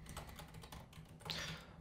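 Typing on a computer keyboard during game-engine coding, a quick run of soft clicking keystrokes close by, quiet and alone without talk.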